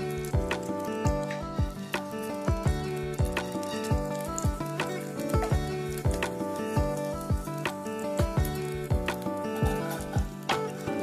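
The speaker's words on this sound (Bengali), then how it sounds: "এবারে এই তেলের মধ্যেই আমি একটু গোটা জিরে ফোড়ন দিয়ে দেবো।" Whole cumin seeds sizzle in hot oil in a kadai, a soft steady crackle under prominent rhythmic background music.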